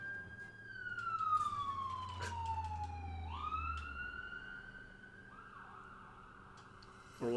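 A wailing emergency siren, identified as an ambulance, sweeps down and back up in pitch as it passes, moderately distant and fading under faint background noise with no talking.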